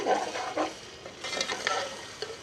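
Minced keema frying in a pan while a spoon stirs it steadily, with sizzling and repeated scraping strokes against the pan bottom, close and moderately loud, with no talking.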